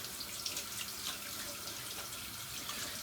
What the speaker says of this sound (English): Now, turning on my water, getting a pretty good rinse going.